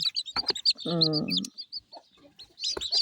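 Small flock of chickens near an incubator, with close, loud clucks and a drawn-out throaty cackle rising above high, repeated chick peeps.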